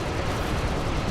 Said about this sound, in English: the explosions are always top notch